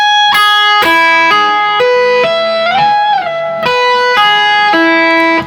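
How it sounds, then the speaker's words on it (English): Electric guitar tapping an arpeggio up and down the neck: bright, sustained, evenly spaced notes that step upward, bend and wobble in the middle, then climb again, played alone. "That's essentially an arpeggio, really, just up and down the neck."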